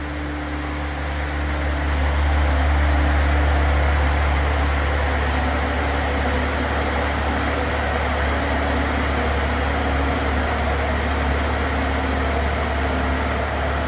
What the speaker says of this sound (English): Idle for 2 minutes, and then without switching the engine off, check the oil within 1 minute.